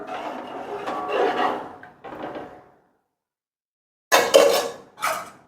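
A spoon clatters against a pot and utensils as food is stirred and mixed in a home kitchen, two bursts of metallic knocking close by, then a silent gap before a sharper flurry of clinks.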